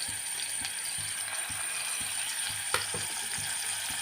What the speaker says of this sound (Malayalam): അപ്പോൾ നമുക്ക് വെളിച്ചെണ്ണ ചൂടാകുമ്പോൾ ഉള്ളി ഇട്ട് കൊടുക്കും